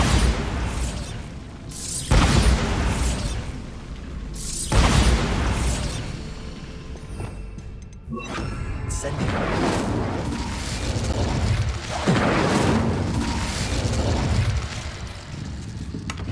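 Bombarda spell blasts in the Hogwarts Legacy video game, with several loud booming bursts at intervals of about two to three seconds, each decaying into rumbling debris over continuous game ambience.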